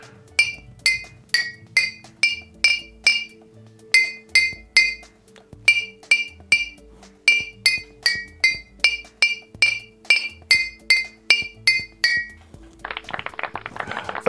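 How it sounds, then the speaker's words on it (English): A tune rings out on a glass xylophone, a fast rhythmic run of bright, clear chiming strikes, each with a short ringing decay, followed at the end by a burst of clapping. "Now, this is a glass xylophone"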